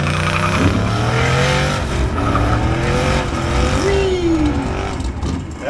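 A twin-turbo Ford Crown Victoria running a junkyard engine and a dual-disc clutch launches hard at a drag strip, its engine roaring loud and close with rising revs, a tire squeal and a climbing whine through the run.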